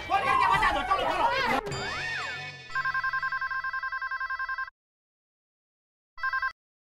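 A telephone rings as a call is placed in a Hindi TV sitcom scene: a burst of mixed noise and chimes gives way to rapid, evenly pulsed electronic ringing, then silence and one more short ring burst.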